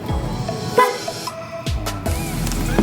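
A short electric horn on a Honda Beat FI V2 motorcycle beeps a few times at close range, brief toots separated by pauses over a background of engine noise.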